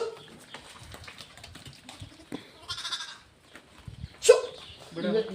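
White sheep on a farm raising Nari Suvarna sheep bleat several times, with a sharp louder call near the end, mixed in among people talking close by.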